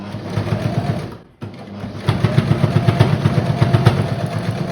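A sewing machine back-stitches a cloth mask, starting with a brief run, pausing for a moment, then driving a steady, fast mechanical chatter of the needle. It sounds close and loud, with no one speaking.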